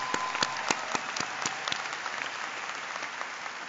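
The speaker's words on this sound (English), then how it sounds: "Give yourselves a round of applause." Audience applause at a 2015 graduate and professional university commencement ceremony, a steady wash of many hands clapping with a few sharper claps standing out near the start, settling into an even roar.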